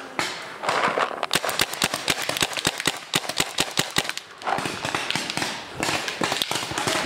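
Paintball guns fire in rapid bursts of sharp, close pops and cracks, some quick strings and some single shots, over rustling and breathy background noise.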